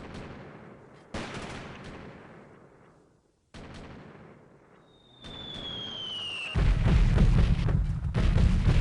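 Artillery fire mission explosions in the video game Delta Force 2: several loud booming blasts separated by short pauses, a rising whistle, then a heavy sustained rumbling barrage at the end.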